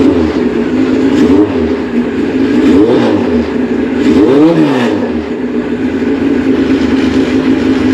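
A car engine runs loud and close, rising and falling through several revs over a steady throaty idle, with no voices over it.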